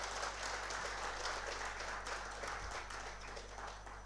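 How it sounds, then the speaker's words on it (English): An audience at a regional management conference in India applauds a speaker, a dense, steady patter of many hands clapping in a hall, moderately distant and fading slightly toward the end. "may I request all of you to give him a big round of applause"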